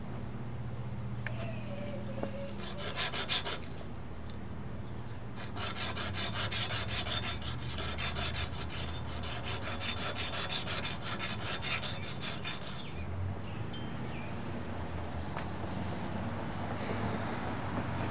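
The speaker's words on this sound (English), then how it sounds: "Grind the sharp edges off of that too." A grinder takes the sharp edges off a metal part for a Vetter Streamline fairing project, loud rasping bursts that start and stop, with a long continuous stretch in the middle and a quieter hum between.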